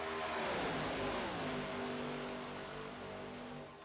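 Race cars in an ARCA event at Daytona in the iRacing video game roar steadily together in a single-file pack, a loud, sustained engine drone with shifting pitch that eases slightly toward the end.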